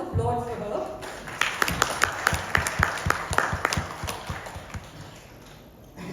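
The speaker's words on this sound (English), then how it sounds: "I would request you a round of applause for her." Applause for a speaker at a women's conference: a burst of sharp, fairly close hand claps that builds into a dense rhythm, then tapers off, with some voices underneath.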